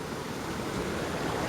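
Storm runoff water rushes steadily near a pond, a dense, constant broadband wash with no pauses, heard up close and alone.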